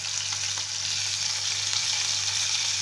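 Local ghee sizzles in a pot, a loud, dense, continuous hiss with fine crackle and a low steady hum underneath, with no talk.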